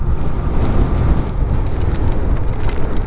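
Steady, dense monsoon downpour on a rural track in Nagarparkar, Pakistan, close by, a continuous hiss with heavy drops drumming on surfaces and a low rumble underneath.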